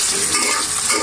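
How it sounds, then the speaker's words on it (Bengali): Onions hit the oil left over from frying soybeans, giving a dense, loud, continuous sizzle up close for about a second, with no voices. "সয়াবিন ভেজে নেওয়া তেলের ভিতরে আমি পেঁয়াজ দিয়ে দিলাম।"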